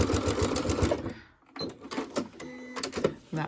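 A sewing machine stitches fabric for a scissors holder, a rapid mechanical clatter in bursts with a short pause partway through, close and fairly loud.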